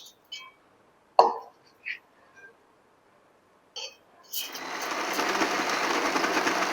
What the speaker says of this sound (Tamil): இப்ப இந்த மாவை அரைச்சிட்டேன்.